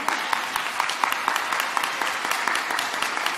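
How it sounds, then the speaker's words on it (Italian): Dense applause from an audience at a children's circus show, steady clapping throughout at close range with no talk over it. "Un applauso a tutti."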